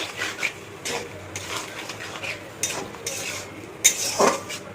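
Spices being stirred and sautéed in a pan for a light fish curry, with intermittent scraping and clinking of a spatula against metal over a soft sizzle, a sharper clatter near the end.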